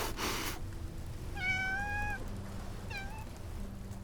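A cat in the Love and Deepspace video game gives two distinct meows, a longer one followed by a short one, close and clear over a quiet background, with a soft rustle at the start.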